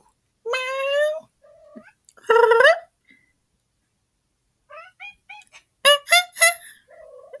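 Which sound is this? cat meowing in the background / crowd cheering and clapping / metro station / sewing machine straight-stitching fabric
cat meowing in the background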